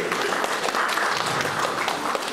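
Audience applause at a Kazakh stand-up comedy show, a dense steady burst of clapping filling the whole short stretch at even loudness.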